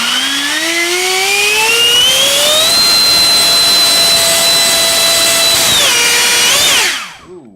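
A Haoye 89mm electric ducted fan with a 4076 2250kv motor spools up to a loud, steady high-pitched jet-like whine, rising over the first few seconds, holding, then cutting off and winding down at the end.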